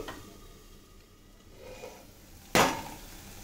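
A lid set down on a cooking pan of Veg Kolhapuri lands with one sharp metallic clatter near the end, after a stretch of soft kitchen background.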